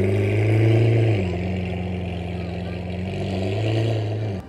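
Orange Lamborghini Aventador with a body kit at an outdoor supercar gathering, its engine droning loud and close, swelling in pitch at the start and again near the end.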